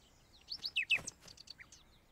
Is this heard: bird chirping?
yes